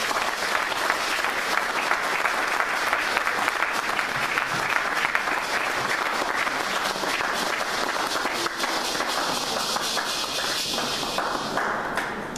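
A church congregation applauding loudly and continuously, dense close clapping from many hands that holds steady throughout and tapers slightly at the end.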